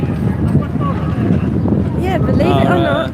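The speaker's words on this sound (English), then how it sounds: "The wind is picking up." On a cold, windy day in Madrid, Spain, gusty wind buffets the microphone with a low, steady rumble while someone talks over it close up.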